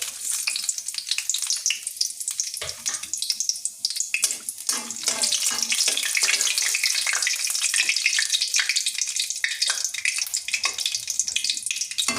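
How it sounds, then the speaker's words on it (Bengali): Dry red chillies, bay leaf and cumin hit hot oil in a kadai and burst into a loud, hissing sizzle that holds steady, broken by a few crackles. "কড়াইতে আমি তেল দিয়েছি তো এখন আমি যে ফোড়নগুলো দিব দিতে আছে শুকনো মরিচ তেজপাতা"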